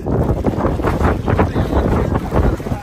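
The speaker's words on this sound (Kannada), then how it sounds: "ತುಂಬಾ ಗಾಳಿ ಇದೆ ಗೈಸ್, ತುಂಬಾ ಗಾಳಿ" Loud, blustery wind at a hilltop peak roars against the microphone in continuous gusts, a heavy rumbling rush that never lets up.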